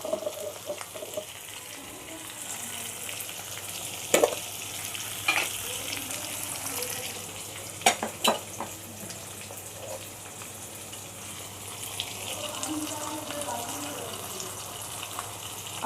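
Tomatoes and salt sizzle and fry steadily in a pan for Bengali chicken gravy, a continuous hiss broken by a few spatters and stirring clinks.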